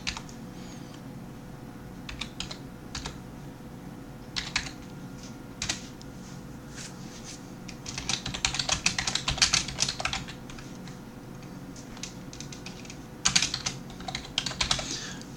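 A password is tapped out on a computer keyboard in scattered clusters of close, crisp keystrokes, separated by short pauses and peaking in a dense flurry midway, with no talking.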